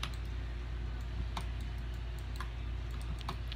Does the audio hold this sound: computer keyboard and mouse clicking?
yes